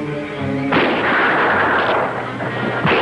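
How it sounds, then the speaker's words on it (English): A single loud gunshot in a jungle setting cracks in suddenly and rolls into a long echoing boom, with a second smaller burst near the end. "Shot."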